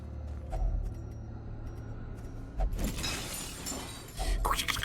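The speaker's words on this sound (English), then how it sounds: "That's a really nice little smashing sound effect there." A crunching, shattering smash effect in the video game Darkest Dungeon, with a few bursts of breaking and creaking debris amid game sounds, alone and fairly loud.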